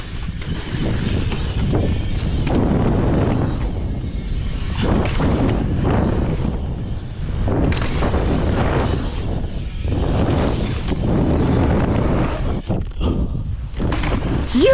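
Loud, gusty wind roars across the microphone while riding an e-MTB with a Pinion gearbox and belt drive into a headwind at a bike park, rising and buffeting unevenly throughout with no talking.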